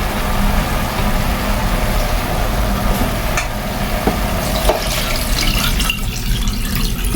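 Water pours into a pot of sotanghon glass noodles as they cook, a steady continuous splashing stream with some sizzling, close and fairly loud throughout.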